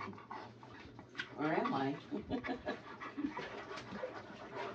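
A dog pants hard and rhythmically close by, the quick breaths running through the whole stretch while someone talks over it.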